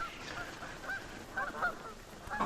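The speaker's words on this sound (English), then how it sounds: "Wild geese." Wild geese honking in the distance, a scattered series of several nasal honks over a quiet background, the calls coming irregularly and fairly faint.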